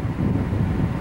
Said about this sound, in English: so the wind is really gusty today